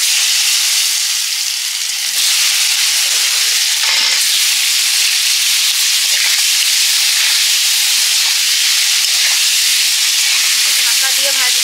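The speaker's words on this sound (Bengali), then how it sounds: "ভেজে নেব।" Jackfruit pieces rubbed with salt and turmeric fry in a pan, giving a steady, loud, close sizzle and hiss that runs unbroken throughout, with small crackles and occasional stirring scrapes.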